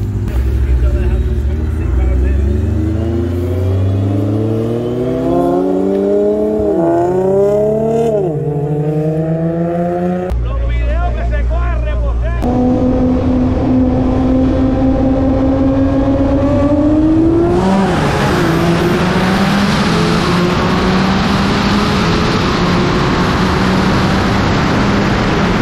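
A built twin-turbo 5.0 ten-speed Mustang and a Nissan GT-R on bead-lock tires race from a 50 mph roll, engines roaring loud with rising pitch sweeps, gear changes and turbo whoosh, over a commentator's speech.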